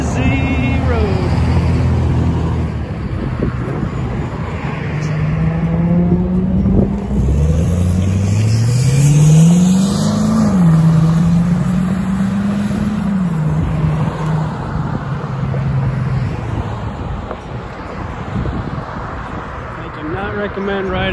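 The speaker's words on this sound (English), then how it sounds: "Recommend riding along a busy road like this." Traffic on a busy road at lunchtime surrounds a Onewheel Pint X rider, with a steady roar of passing cars and a vehicle engine revving and changing pitch close by; a voice talks intermittently over it.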